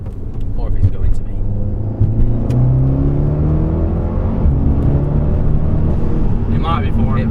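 An Audi S3 8V with a custom valved exhaust accelerating hard, a loud close engine note climbing in pitch through a long pull with a brief shift dip, and talking over it inside the car.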